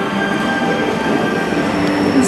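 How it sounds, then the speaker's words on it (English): Loud railway noise fills the train set at the Harry Potter studio tour: a steady heavy rumble with faint sustained squealing tones and no clear talking. "Look, the train here."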